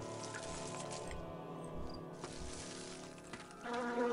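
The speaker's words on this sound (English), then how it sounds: "Where even more wasps await us." Wasps buzzing in the video game Nox, a close, droning insect hum that swells and fades over a few seconds with no talking.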